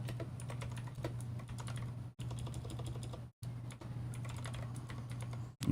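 Rapid clicking of keys on a computer keyboard, a quiet, steady patter of typing broken by two short pauses, over a low constant hum.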